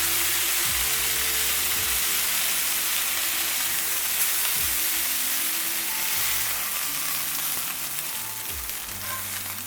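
Steaks sear in a hot pan with a loud, continuous sizzle and frying hiss, occasional crackles and stirring knocks, no voices.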